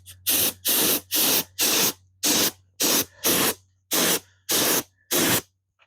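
Flat black spray paint hisses from an aerosol can onto a sun-heated RV wheel rim in ten short, even bursts, each about a third of a second, with brief silent gaps between, loud and close.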